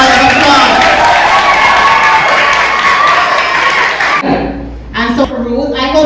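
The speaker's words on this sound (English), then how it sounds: "Please give her a round of applause." Audience at a high school Commonwealth Day assembly claps and cheers loudly for several seconds, then the applause cuts off abruptly as a speaker's voice resumes.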